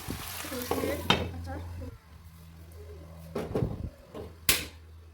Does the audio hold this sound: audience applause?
no